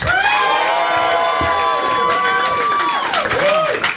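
A comedy show audience whoops and claps loudly to vote for the broadcasters, a brief roaring burst of cheers, shouts and sliding whistles with clapping underneath.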